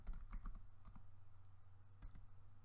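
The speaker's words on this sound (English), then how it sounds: "So the first thing I'm going to type is my title" Typing on a computer keyboard, a faint, irregular run of soft key clicks over a low hum.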